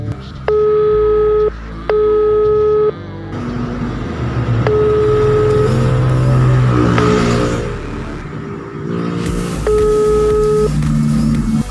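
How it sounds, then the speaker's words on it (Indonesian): A phone call to a food delivery driver rings out as loud, steady ringback tones in repeated bursts, with a continuous background drone and brief gaps before the tones return. "untuk yang ketiga kalinya saya akan telepon drivernya"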